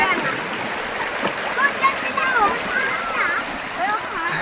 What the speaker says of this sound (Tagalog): Medyo malakas yung current dito sa part na to.